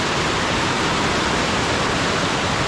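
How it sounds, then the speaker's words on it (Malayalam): Rushing river water roars in a dense, unbroken wash of noise, loud and near, with no other sounds breaking through. "ഈ ഇരപ്പായിരുന്നു വെള്ളത്തിൻ്റെ ഇരപ്പായിരുന്നു"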